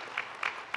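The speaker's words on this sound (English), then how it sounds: "we just clap for them" A short stretch of audience clapping at a memorial service at CITAM Valley Road church, a soft wash of hands with a few louder claps standing out, somewhat distant.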